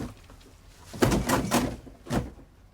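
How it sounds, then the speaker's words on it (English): A door opening, sounded out as a staged prop effect: a few scraping, clunking bursts with a sliding rattle, then a final thud, close and clear against a quiet background. "Door open. A door opening."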